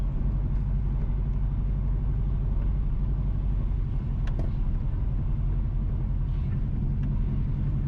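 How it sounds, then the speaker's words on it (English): A car drives along Oxford Road in St Mary, Jamaica, giving a steady, low engine and road rumble that runs unbroken throughout, with a few faint clicks and no talking. "We are driving on Oxford Road."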